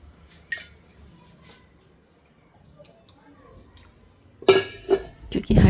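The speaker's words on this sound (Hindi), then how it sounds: "पानी डाल करके थोड़ा सा।" Water is poured into a mixer grinder jar holding a handful of chickpeas in a home kitchen. After quiet clinks and small drips, a short, loud, close splashing pour bursts in near the end.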